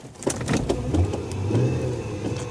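A 2005 Acura MDX engine idles roughly and unevenly right before stalling, a loud close uneven rumble with stumbling pulses and no clean rhythm.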